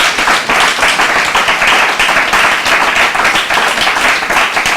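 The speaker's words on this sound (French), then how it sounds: "On peut encore applaudir tous les artistes, s'il vous plaît, également." An audience at a departmental library festival in the Yonne applauds the performers, a loud, steady wash of many hands clapping with no break.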